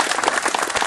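An outdoor audience at a rotary trail opening ceremony breaking into applause, a dense burst of many hands clapping together, fairly close and loud, with no talking over it.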